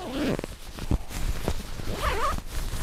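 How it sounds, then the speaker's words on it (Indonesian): Zipper of a Green Land mountain sleeping bag being pulled in several short, scratchy strokes, close to the microphone, with a brief rustle of fabric between pulls and no talking. "Jadi ada resleting yang kadang susah, kadang enggak."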